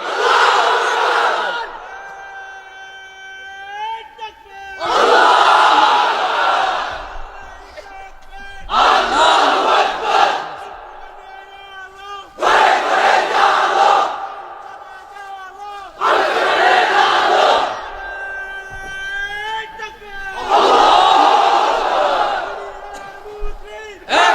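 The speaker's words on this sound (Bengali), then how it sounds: "এবার অবিবাহিতরা দাও লিল্লাহি তাকবীর।" A large crowd of unmarried men in a Bangladeshi open-field waz gathering roars the takbir chant together, several loud drawn-out mass shouts in bursts separated by brief pauses.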